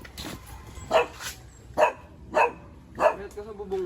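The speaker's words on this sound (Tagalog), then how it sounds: "Kaso may aso." A dog barks in short, sharp bursts, about five barks spaced roughly half a second to a second apart, fairly close, over quiet outdoor background with faint voices.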